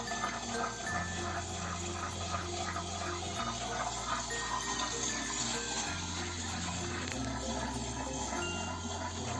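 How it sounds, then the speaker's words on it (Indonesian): Water drains steadily from an aquarium sump drain hose, a continuous low gushing and trickling with a faint pump hum underneath, fairly quiet and close. "selangnya masih dibiarin ngebuang air"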